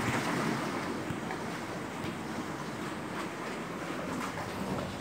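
Sea waves wash steadily against large rocks along a narrow seaside passage, a continuous broadband surge with gusts of wind noise across the microphone and no talking.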